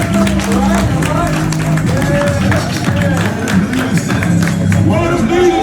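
A crowd at a Juneteenth gathering claps in a quick, steady rhythm while a loud voice carries over the top.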